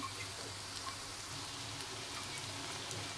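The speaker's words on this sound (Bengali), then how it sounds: "দেখো সবগুলো দিয়ে দিচ্ছি একসাথে, এখন ভেজে নিচ্ছি।" Spinach pakoras frying together in hot oil, a steady dense sizzle and crackle that stays faint and even throughout, with no talking.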